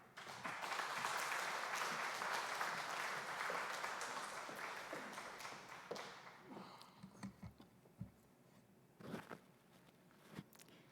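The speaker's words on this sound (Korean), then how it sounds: "우리 선교사님 나오실 때 우리 큰 박수 부탁합니다." A church congregation applauds at a Wednesday prayer meeting as a missionary comes forward: dense, loud clapping for about six seconds, then thinning into scattered claps and light shuffling.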